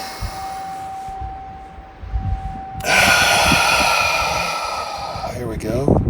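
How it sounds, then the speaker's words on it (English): A deep, drawn-out inhale during a breathing exercise, loud and close, a long breathy rush of air rising after a quieter opening with a faint tone. "And we are inhaling."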